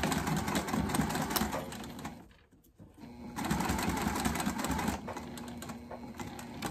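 A sewing machine stitches a zipper onto a waist pack, a close rapid mechanical chatter that pauses briefly in the middle before resuming steadily.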